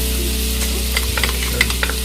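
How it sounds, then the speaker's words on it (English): Five tablespoons of butter and garlic sizzle gently in a pan over low heat, a steady close crackle with a few soft pops and light stirring clicks, no talking. "melting at a low heat 5 tablespoons of butter and add our garlic to this"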